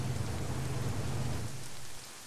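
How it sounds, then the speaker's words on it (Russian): Steady rain hisses down on surfaces in a desert setting in the military game ARMA 3, a continuous dense patter with a low rumble underneath that eases slightly near the end. "В пустыне дождик."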